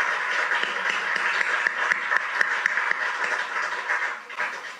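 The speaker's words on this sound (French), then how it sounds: "on pourrait l'applaudir pour" A conference audience claps after a talk on artificial intelligence and health data, a sustained, moderately loud patter of many hands with a few sharper claps standing out near the front.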